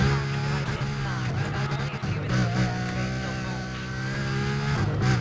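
A McLaren F1 in the racing game Need for Speed: Undercover drives with a steady, loud engine drone and shifting tonal revs throughout, alongside music or talk-like sounds.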